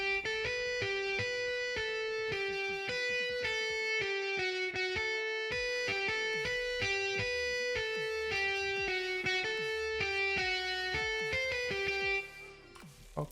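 A lead guitar line run through the Guitar Rig preset Hot Solo Scooped for a pop punk beat, playing a steady, repeating pattern of distinct sustained notes at an even rhythm, loud and continuous throughout before a brief tail at the end.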